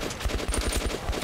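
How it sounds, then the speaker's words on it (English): Shotgun fire from the video game Metro comes as a loud, rapid string of repeated blasts, close and regular, with no voices over them. "Good thing about this shotgun is I don't have to worry about wasting fucking ammo."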